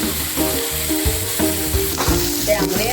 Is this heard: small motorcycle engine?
no